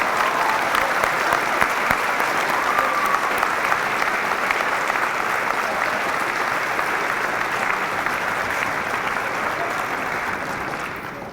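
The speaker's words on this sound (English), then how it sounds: "We give these students a round of applause," Audience applause for high school students at an academic award ceremony, a dense, steady wash of many hands clapping that holds throughout and tapers slightly at the end.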